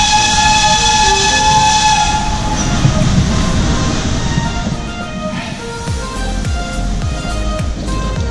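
The Nilgiri Mountain Railway toy train running near Ooty, a loud continuous rumble of rolling wheels with rhythmic clacking over rail joints growing more distinct toward the end, over a faint whistle-like tone.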